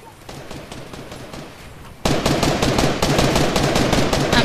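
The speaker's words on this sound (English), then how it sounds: "he's shooting me like crazy" Rapid gunfire from the Fortnite video game crackles in dense bursts, quieter for the first two seconds and then much louder and continuous through to the end, with no one talking over it.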